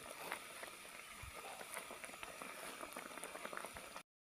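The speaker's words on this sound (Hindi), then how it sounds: "अब मैं ये चीनी का पानी भी ड्राई कर लूँगा" Sugar water boils dry in a pot of sohan halwa, a steady close bubbling and popping with small crackles throughout, no voices.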